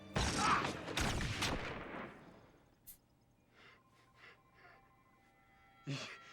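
A loud gunshot burst from the TV series Firefly opens the scene and decays into ringing, followed by gasping breaths and quiet dialogue.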